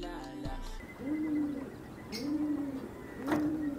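A pigeon flute fixed to a pigeon's tail whistles in flight, giving three hollow, rising-and-falling hooting tones about a second apart against faint outdoor background noise.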